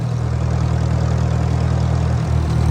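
Tractor engine running steadily while spreading manure in a hay field at dusk, a loud, close, low rumbling idle-like drone with a constant even pulse and no voices.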